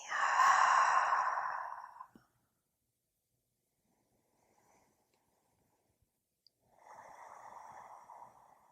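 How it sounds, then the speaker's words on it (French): Slow deep breaths in Shavasana during a gentle relaxing yoga session: one long, soft exhale sighs out near and clearly, followed by silence, then another slow breath begins. "On va s'offrir 5 respirations dans Shavasana pour terminer en beauté."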